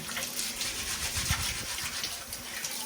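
Cool tap water runs without a break to rinse aquarium carbon, a close, steady gushing splash that fills the whole clip.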